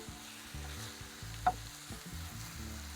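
Mongolian beef stir fry being stirred in a very hot pan, with scraping and stirring strokes over a steady low sizzle and one sharp clink near the middle.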